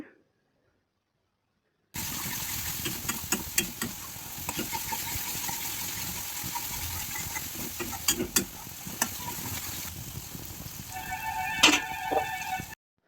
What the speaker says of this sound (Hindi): टमाटो दे दमा आउ टमाटो के भी भल से टिके भाजमा